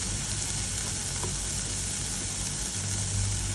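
Gram flour (besan) tipped into okra curry frying in a pan, a steady close sizzle of hot oil that holds evenly throughout with no talking.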